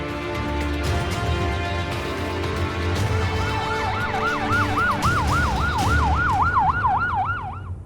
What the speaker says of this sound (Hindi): गौतम ने हड़बड़ी में फोन करके एम्बुलेंस को बुला लिया था।